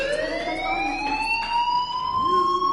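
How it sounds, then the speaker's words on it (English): A rising, wailing fire alarm siren sounds loud and continuous inside the video game Life Is Strange, its steady tone sweeping upward over several seconds with faint background noise beneath. "do you hear that fire alarm?"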